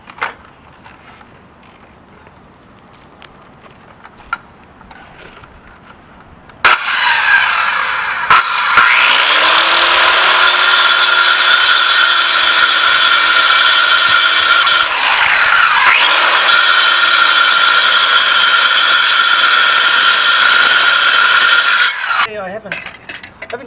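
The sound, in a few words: power saw cutting concrete paver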